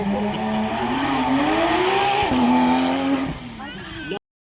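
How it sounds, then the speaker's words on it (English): Porsche GT3 RS with a 4-litre flat-six of over 500 horsepower on a demonstration run at a supercar weekend: loud, close sustained engine roar rising and falling through gear changes, ending abruptly. "Do you believe this is our GT3 RS? 4 litre, flat 6, over 500 horsepower."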